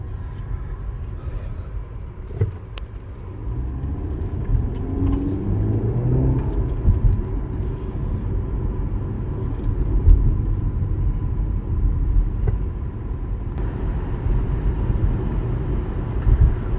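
Cabin of a BMW X2 xDrive28i SUV driving in sport mode, with a steady low engine and road rumble throughout and a few faint knocks, no one talking.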